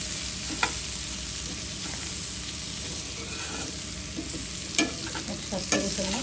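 Sliced bitter gourd, onion and potato fry together in a pan with a continuous close sizzle, broken by a few sharp scrapes and clinks of stirring and no voices.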